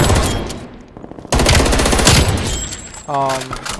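Assault rifle fire in Black Ops Cold War, with loud rapid automatic bursts broken by a brief gap, then a sustained burst and a short electronic tone near the end.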